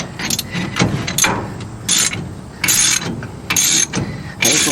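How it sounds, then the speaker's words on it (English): A hand wrench ratchets in short bursts, tightening a puller on a wheel stud of a rotten 1956 chop-top oval-window VW Beetle; close, loud clicking runs alternate with pauses, and no one speaks. "I'm really going to have to torque the hell out of it with a wrench instead of using the impact"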